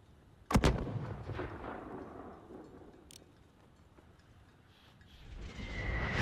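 Mortar fire booms in Call of Duty Modern Warfare: one sharp, loud blast near the start, a fainter crack around the middle, and a low rumbling wash of battlefield noise that swells again toward the end.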